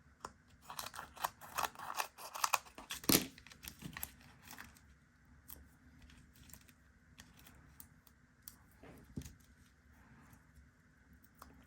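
Scissors snipping through paper flowers, a quick burst of sharp crisp cuts close by followed by a few sparse snips and paper rustles, fairly quiet overall.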